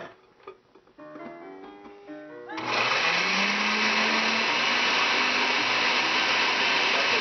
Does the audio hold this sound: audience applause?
no